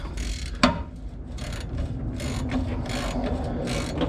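A ratchet works loose the lower transmission bolt of a C6 transmission on a 1977 Ford F-250 Ranger XLT Super Cab, giving a rapid clicking train close by, with a sharp clack near the start.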